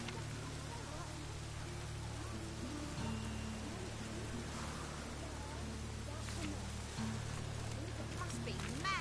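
Steady rain falling outdoors, a soft continuous hiss of drops on surfaces with a low rumbling background hum throughout, fairly faint and unbroken with no voices.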